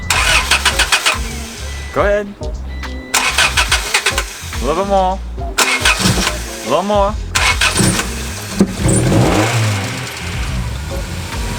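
A Scion tC with a loss-of-power fault cranks and starts, then revs in repeated rising bursts with short pauses, loud and close, while people talk over it.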